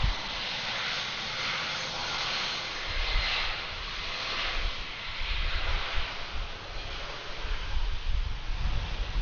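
An Airbus A321 airliner lands at Atlanta airport in the evening, its engines making a steady broadband roar with low rumble that swells and eases across the whole span, with no voices.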